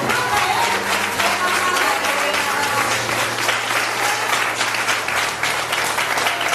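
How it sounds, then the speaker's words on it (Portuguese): A church congregation applauds in sustained, dense clapping that fills the room loudly and evenly throughout, with a low steady hum and some voices mixed underneath. "Aplauda ele, aplauda ele."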